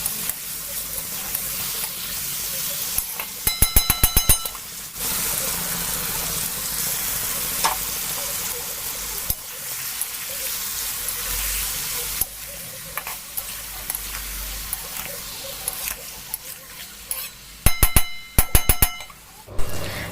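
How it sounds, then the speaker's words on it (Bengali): Chopped bottle gourd and tomato sautéing in a pan, a steady sizzle throughout, broken by brief clattering stirs near the start and end. "তারপর টমেটোর সাথে লাউটাকে আমি আরও 2 মিনিট ধরে কষিয়ে নেব।"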